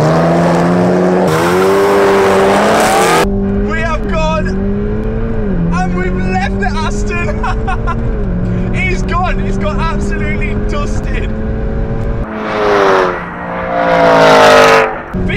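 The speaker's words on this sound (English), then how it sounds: "So the Golf takes a win over the V8 powered Aston Martin Vantage" A modified VW Golf R races a V8-powered Aston Martin Vantage, loud engine tones rising and falling through gear changes, with a roaring drive-by surge near the end.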